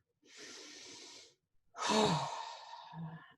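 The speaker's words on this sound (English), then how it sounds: "take a deep breath" A slow, deep breath drawn in and then let out, two broad airy swells close to the microphone with a short pause between them and no talking.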